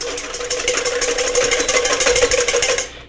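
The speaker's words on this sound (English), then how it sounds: "break those yolks and just give them a quick whisk" Metal whisk beating eggs in a steel bowl, a fast, steady, rhythmic clatter of metal on metal that continues evenly for about three seconds before cutting off.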